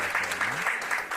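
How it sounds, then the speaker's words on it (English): Brief, faint clapping from an audience at a parenting summit, a few soft bursts of applause heard mixed with a low voice in the background. "A round of applause for Isaac, please."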